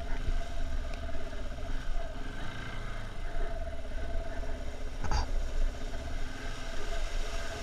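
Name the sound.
big motorcycles throttling on trail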